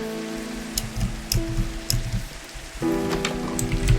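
Rain falls steadily in a Minecraft game, a soft continuous hiss over low steady tones, with scattered brighter drip ticks throughout.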